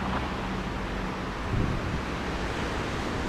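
Strong cold winter wind sweeps the coast at Alanya, a constant close broadband roar with surf-like rushing and no pauses.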